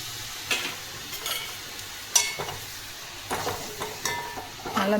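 Chapathi egg kothu is mixed with chicken gravy in a pan: soft scraping and tossing with a light sizzle underneath, plus a few sharper clatters spaced through the stretch.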